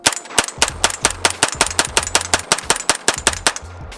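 Rapid gunfire from 9mm AR-15 pistol-caliber carbines, a CMMG Banshee and an Angstadt Arms, with sharp, loud shots in quick, fairly even succession and about sixteen reports over four seconds, with no talking.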